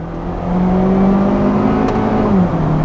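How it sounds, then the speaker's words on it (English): Hyundai Veloster Turbo engine revving steadily under load, a loud continuous drone whose pitch climbs slowly as the turbo spools in, then dips briefly near the end. "it takes a while to rev up, then the turbo eventually spools in, and then off it goes"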